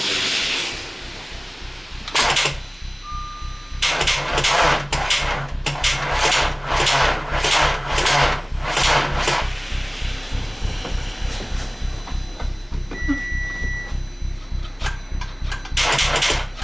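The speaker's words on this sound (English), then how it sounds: "I'm just gonna fire up the engine and fingers crossed it will run." A car engine idles steadily with a low, even throb throughout, loud and close, broken by repeated bursts of hissing and clanking noise. The car is an Audi A4 being started for the first time after repair work.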